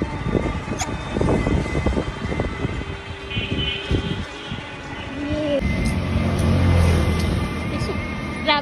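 A van ride along a village road, with a steady engine rumble and road noise running throughout, a rise in level toward the end, and people talking over it.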